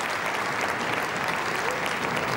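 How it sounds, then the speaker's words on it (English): A crowd applauds at a tenpin bowling tournament in Barnsley, a steady, dense wash of clapping that continues without a break. "What a response from the crowd to the players."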